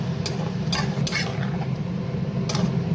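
Ginger, tomato and green chili paste being stirred in hot oil in a pan, with a steady low sizzle and a few sharp scrapes of the spoon against the metal, close and continuous without talk.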